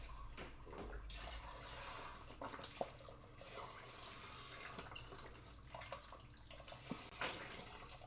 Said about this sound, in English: I'm going to take some organic chicken broth and pour it on top of there so it can cook down a little.